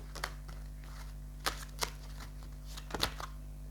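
Tarot cards are shuffled and riffled close by in short irregular bursts over a steady low electrical hum; no talking.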